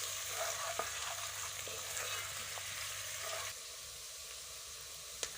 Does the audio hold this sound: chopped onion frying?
yes